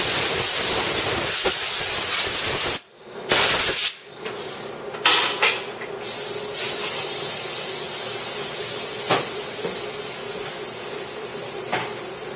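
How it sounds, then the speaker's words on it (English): Compressed air blows off a liquid-damaged MacBook logic board, a loud continuous hiss broken by brief pauses and short sputtering bursts, close and without talk. "I'll blow this board off a little bit because it is disgusting."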